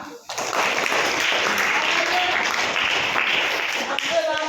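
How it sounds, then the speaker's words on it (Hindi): Children clap together in a classroom, a steady, dense round of applause that starts abruptly and holds loud and even for several seconds, with faint voices mixed in. "तालियां"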